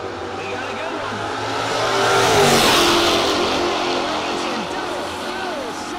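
Drag race cars, a Dart and a Camaro, roaring past at a no-box drag racing event, the engine noise swelling to a peak and easing off over crowd ambience, with a commentator talking throughout.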